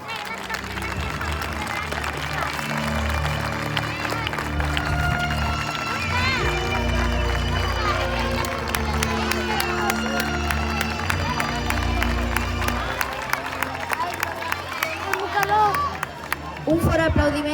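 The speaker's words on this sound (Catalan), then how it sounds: "Un fort aplaudiment pels nens i nenes que han fet de cavallers." Crowd applause and cheering for children who performed as knights in a school play of the Legend of Saint George, a steady dense roar of clapping and voices that swells midway and keeps going throughout.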